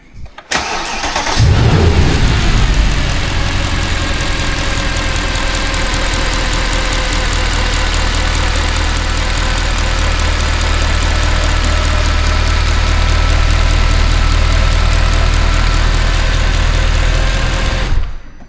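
A Mercedes C63 AMG M156 V8 engine, just after cam adjuster repair, cranks and catches, then settles into a steady, loud idle that runs evenly and continuously until it cuts off at the end.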